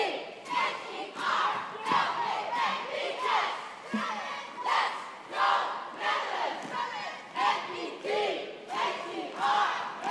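A crowd yells in rhythmic bursts at a cheerleading championship final in the All Girls Elite and Coed Elite divisions. The shouted chants come in repeated waves, loud and echoing through a large arena.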